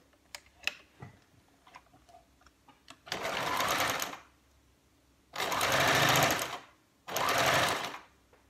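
Sewing machine stitching a fabric tube, heard close in three loud runs of roughly one to two seconds each, preceded by light clicks and taps of handling.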